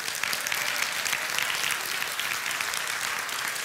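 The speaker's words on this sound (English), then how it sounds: "Give the Lord a hand clap of praise." A church congregation claps steadily in praise, a dense, even wash of applause from many hands that holds at a constant level without any talk.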